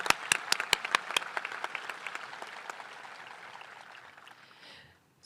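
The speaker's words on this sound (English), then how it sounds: "Let's please give both of our award winners another round of applause." A crowd at a high school graduation ceremony applauds, a few sharp claps up front over dense steady clapping that slowly thins and fades away.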